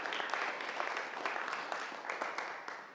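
An audience at a keynote speech breaks into steady, fairly distant applause, with dense, even clapping that carries through the whole stretch and fades slightly at the end.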